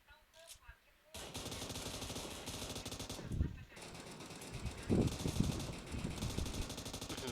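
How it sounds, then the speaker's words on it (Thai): Rapid bursts of loud automatic gunfire in PUBG Mobile, sharp and dense, follow a quiet opening, with repeated volleys and booming shots over several seconds. "เสียงปืนดังสนั่น"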